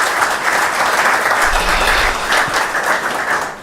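Conference audience at an opening ceremony applauding steadily, dense clapping from a large crowd that stays strong and even for several seconds.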